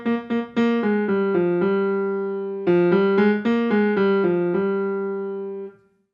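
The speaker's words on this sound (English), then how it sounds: "another tune based on Lithuanian folk melody appears." A single melodic line of the Lithuanian folk tune from Stravinsky's The Rite of Spring, played alone in a steady, loud sequence of short repeated notes, pausing briefly before the phrase repeats and fades out.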